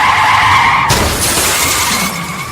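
Car tires skid with a loud, sustained screech that gives way after about a second to a harsh crashing burst of a collision, then noisy fading debris and engine rumble.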